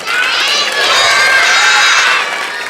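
A crowd of schoolchildren at a government school event cheers and shouts loudly for a few seconds, a bright continuous roar that swells and then eases slightly at the end.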